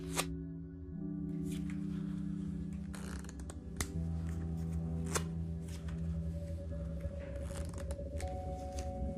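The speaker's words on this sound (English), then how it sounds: "It's a false shuffle, keeps the deck in the order it was in to begin with" Playing cards are false shuffled close up, soft riffling and snapping bursts over a quiet low hum, with a few sharper clicks.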